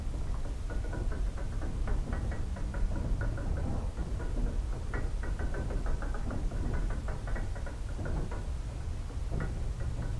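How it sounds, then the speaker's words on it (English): Creaking of a moving elevator in the video game Blue Prince, a steady mechanical rumble with repeated knocking and ticking creaks running throughout, fairly loud against a constant loud waterfall roar. "I do not like hearing the creaking while I'm on an elevator."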